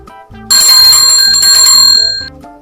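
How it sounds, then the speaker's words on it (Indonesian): A bright bell rings close by, a quick burst of rapid metallic dings that rings out and fades. "suara lonceng"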